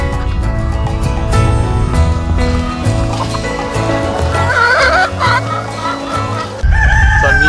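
Hens cluck busily at a church-run chicken farm while a rooster crows loudly near the end, over a dense background of game-bird chatter.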